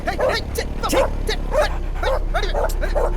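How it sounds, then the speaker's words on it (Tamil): Dogs bark and yip repeatedly at night in an outdoor street scene. The sharp, close barks come in a quick irregular series of about ten, with a low steady hum underneath. "நைட்டான அந்த நாய்ங்க தொல்லை."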